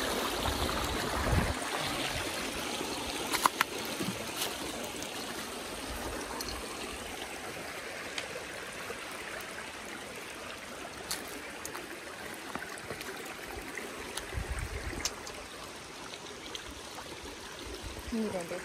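The Lempa River flows in a continuous soft rushing and trickling, heard steadily at moderate distance, with faint scattered clicks and no voices.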